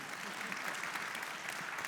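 Audience applause at a literary awards event fills the whole stretch as an even, steady wash of many hands clapping, with no break and no clear voices standing out.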